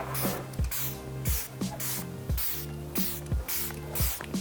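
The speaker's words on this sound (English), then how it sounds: "moving forward to the last step of our makeup, which is a fixing spray" Repeated short hissing bursts of a Fenty Beauty makeup fixing spray bottle, about five or six quick pumps in a steady rhythm, close and fairly loud.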